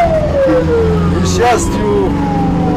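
An ambulance siren wails as the crew rushes to an emergency call in Sochi, its tone sweeping up and down over traffic noise while a voice speaks briefly over it.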